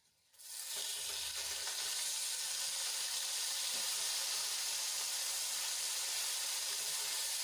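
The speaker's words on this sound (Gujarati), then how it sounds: "હવે એમાં આપણે ખમણેલી ડુંગળી એડ કરી દઈશું" Grated onion hits hot oil with cloves, star anise and asafoetida, bursting into a loud sudden sizzle that holds as a steady, dense hiss.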